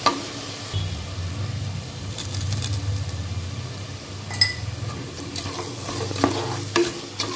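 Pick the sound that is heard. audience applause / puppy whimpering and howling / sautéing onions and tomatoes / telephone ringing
sautéing onions and tomatoes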